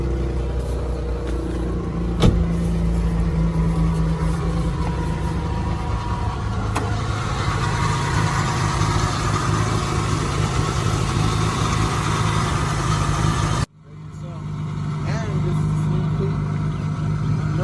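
An Infiniti G35 engine idles roughly at close range, a continuous low rumble that cuts out briefly near the end before picking back up.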